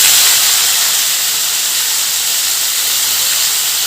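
Mint leaves fry in hot oil while a chutney is being made, a loud, close, steady sizzling hiss that continues without a break.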